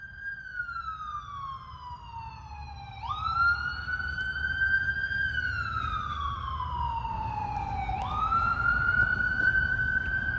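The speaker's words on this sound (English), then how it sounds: "I'm going to let the siren take you away" An emergency vehicle siren wails alone, with a slow rising and falling tone that sweeps several times over about ten seconds, loud and close above a low traffic rumble.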